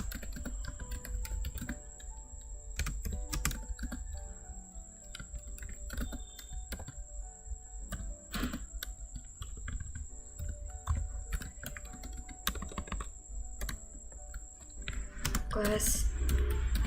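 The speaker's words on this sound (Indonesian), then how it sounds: "Kita ketikkan scriptnya." Rapid keystrokes on a computer keyboard while a JavaScript class script is typed out, steady bursts of close clicks with short pauses continuing throughout.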